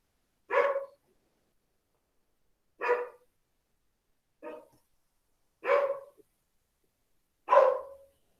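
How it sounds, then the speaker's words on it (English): A dog barks in the background of a home online statistics lecture: five separate, fairly faint single barks spaced a second or two apart, with quiet in between and no talking. "That'd be my dog in the background"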